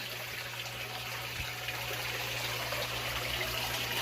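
An aquarium filter pump pushes water through a hose into an old toolbox, giving a steady trickling, gurgling flow over a constant low motor hum, close and continuous throughout.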